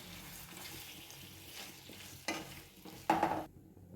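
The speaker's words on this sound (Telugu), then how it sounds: "ఇప్పుడు ముందుగా మ్యారినేట్ చేసి పెట్టుకున్న చికెన్ని ప్యాన్లో వేసుకుందాం." Marinated chicken cooks in a pan with a low, steady sizzle and occasional scraping stirs, then a louder burst of sizzling and a clatter near the end before the sound cuts off, with no talking.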